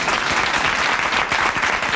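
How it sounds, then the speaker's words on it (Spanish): A TV studio audience breaks into loud, dense applause, a steady sustained roar of many hands clapping at once. "¡Y el aplauso!"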